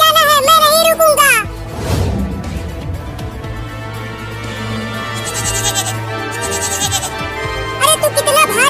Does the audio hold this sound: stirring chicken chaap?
no